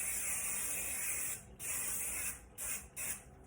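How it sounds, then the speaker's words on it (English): Several short hissing sprays from an aerosol can of hair spray over hair, close up, the first long and the rest brief bursts. "just do a light little spray over your hair"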